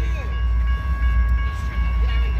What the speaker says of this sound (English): There's a northbound freight train about to cross State Street at the Riverfront Park in downtown Salem